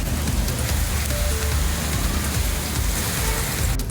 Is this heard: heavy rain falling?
yes